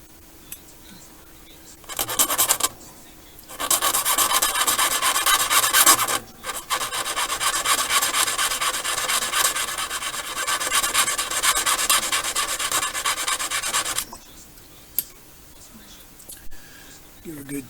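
Steady, hissing rasping as a file or abrasive chamfers the end of a rail, loud and close, running in one long stretch after a couple of short strokes, with a voice speaking faintly at the edges.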